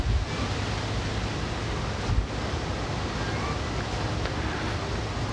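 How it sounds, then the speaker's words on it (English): Wind blowing outdoors in a steady, loud rush across the microphone, broadband and continuous for a few seconds with a faint low rumble and no talk. "The wind right on cue."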